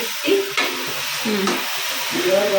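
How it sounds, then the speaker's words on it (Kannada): Continuous close sizzling of spices frying in hot oil, with faint tonal bits of voice or utensil noise in the background. "ಇದು ಚೆನ್ನಾಗಿ ಒಗ್ಗರಣೆ ಮಾಡ್ಕೊಬೇಕು"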